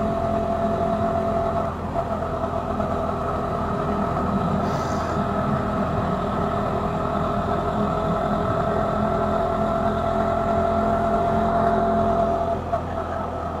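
A KTM 390 Duke motorcycle rides along a twisty road, its engine a steady, continuous drone with constant wind rumble throughout, heard from onboard at an even pitch.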